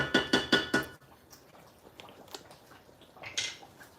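A pot of Liberian palm butter soup gets its lid set down in four quick metallic clanks, close and fairly loud, followed by faint kitchen clatter and a soft scrape near the end.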